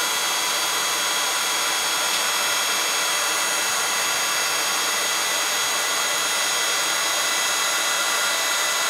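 A heat tool blows steadily for the whole stretch, a constant close whoosh of hot air melting embossing powder on a stamped card, with no talk over it.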